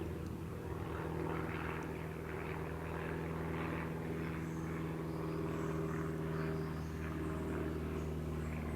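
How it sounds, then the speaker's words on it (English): A propeller airplane passes overhead as a steady, distant engine drone that holds evenly throughout, faint and alone with no talk. "As a plane flies overhead."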